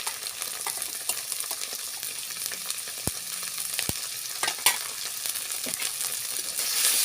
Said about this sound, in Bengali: দিয়ে আমি সুন্দর করে মশলাটাকে কষিয়ে নেব পেঁয়াজের সাথে।